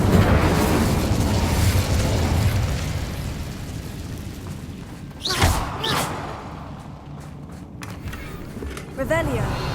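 A blazing Incendio fire spell bursts in Hogwarts Legacy with a sudden loud whoosh and crackle midway, followed by a couple of smaller pops, over a dense game soundscape with ambient rumble and occasional voices.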